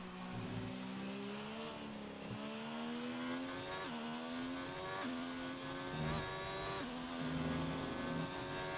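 Race car engine heard onboard at Silverstone in a racing video game, revving high with repeated rising pitch sweeps and sharp drops at each gear change, steady and close throughout.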